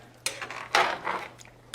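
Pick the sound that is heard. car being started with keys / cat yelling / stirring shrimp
stirring shrimp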